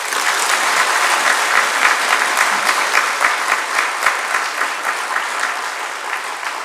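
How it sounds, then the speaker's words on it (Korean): A church congregation gives a loud, continuous round of welcoming applause, many hands clapping densely and evenly from start to finish. "우리 환영하는 그런 의미에서 박수 한번 하겠습니다."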